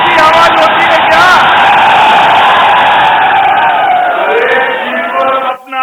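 A large political rally crowd in Saharanpur, Uttar Pradesh, roars and shouts in a loud sustained wave of cheering that fades toward the end, with a few sharp whistles near the start.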